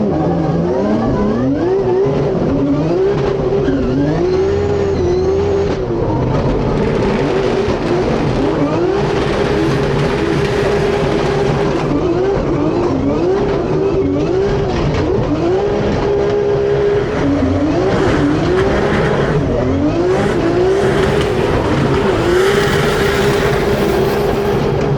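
Drift race car running on a track at a DM.GP round in Ferropolis, with repeated engine revs rising and falling in waves alongside continuous loud mechanical noise and no voices.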